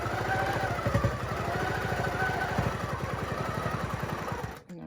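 A Qnique 19 longarm quilting machine on a Cutie frame stitches steadily, with a fast, even mechanical chatter that continues without a break and then stops abruptly at the end, close and moderately loud.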